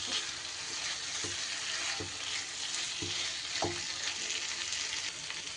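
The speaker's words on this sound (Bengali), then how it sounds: "এইবার আমি এই পর্যায়ে দিয়ে দেব ভেজে রাখা আলু আর পটলগুলো। মশলার সাথে খুব ভালো করে মিশিয়ে নিতে হবে।" Fried potatoes and pointed gourd stirred into sizzling masala in a pan, a steady frying hiss broken by several distinct scraping clacks of the spoon at irregular intervals, close and alone.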